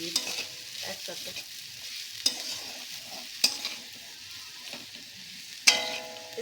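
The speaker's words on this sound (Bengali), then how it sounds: "একটু নাড়া হবে কিছুক্ষণ।" Ginger-garlic paste fried in a pan for egg biryani sizzles steadily and close, while a spoon scrapes through it and several sharp clinks hit the pan.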